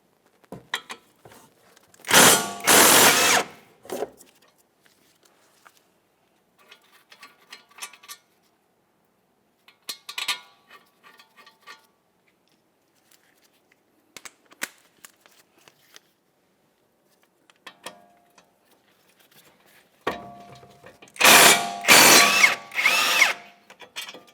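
Power tool, likely an impact wrench, spinning out 17mm brake caliper mounting bolts on a 2014-2019 Toyota Corolla: several loud short bursts separated by quieter clinks and handling noises, close up.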